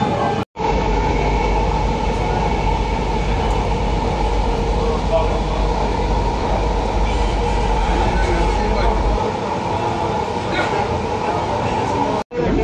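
A Kochi metro train rumbles along steadily, its low hum and rolling rail noise continuous from inside the carriage, with an announcement voice heard over it.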